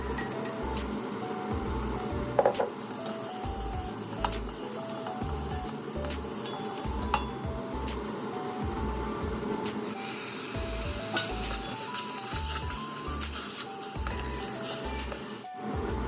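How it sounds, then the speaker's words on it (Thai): Thai curry paste stir-fried in a pan for a chicken and pumpkin curry, giving a steady close sizzle with repeated scraping stir strokes in a regular rhythm throughout, plus a brief clink early on. "ผมจะผัดเครื่องแกงให้หอมก่อนนะครับ"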